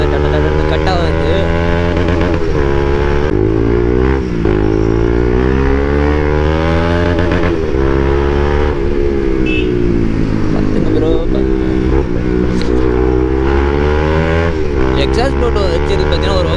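Modified Yamaha R15 V3 motorcycle with an aftermarket exhaust, a loud, close engine note that rises and falls through repeated revs and gear changes while riding, with someone talking over it.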